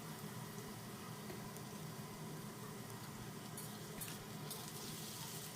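Spinach and winter vegetables frying lightly in a pan for a Bengali curry, giving a steady, faint, even sizzle that hisses on without a break.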